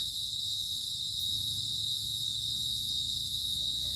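A cricket near its burrow trills in a steady, continuous high whine at dusk outdoors, faint and unbroken over a low background rumble.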